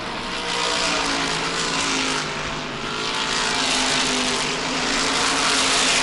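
Modified race cars running side by side in the middle pack at a New England track, a steady, loud engine roar sustained throughout with slight swells, no talk.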